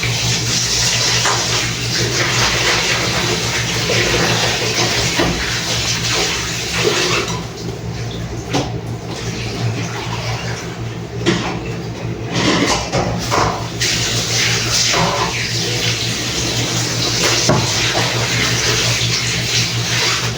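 Steady running water from a tap flows continuously, with occasional soft knocks and splashes as steak is rinsed under the stream.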